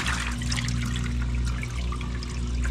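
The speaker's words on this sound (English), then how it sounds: "turn off the washing machine and the water's coming out" Water drains steadily from the drum of a Samsung top-load washing machine, a continuous rushing trickle over a constant low machine hum, with no talking.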